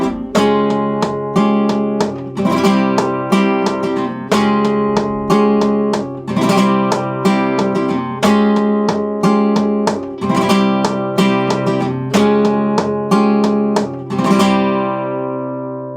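A fast, looping bulerías flamenco guitar rhythm with strummed chords and sharp percussive hits repeating in a steady, driving pattern, loud and close, then ringing out at the end.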